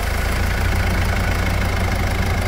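A Mitsubishi Pajero Full with the 3.2 4M41 diesel engine idles steadily, its low, even clatter and rumble continuous and close throughout, with no voices.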